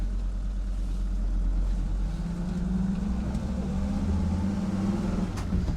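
A rusty 1980 Mercedes W123 300D diesel car pulling away, a low, fairly quiet engine drone that rises in pitch partway through as it moves off, with no talking.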